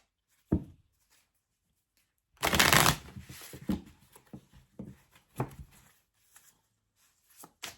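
Tarot cards being shuffled at close range in several separate bursts, including one long riffle and a few shorter quick flicks and taps, with quiet pauses in between and no voices.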